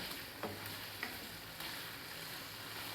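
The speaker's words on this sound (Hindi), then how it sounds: "ये देखें जी, चिकन फ्राई हो रहा है।" Chicken frying in a pan for aloo gosht, a quiet even sizzle with a few brief utensil knocks over a low hum, no talking.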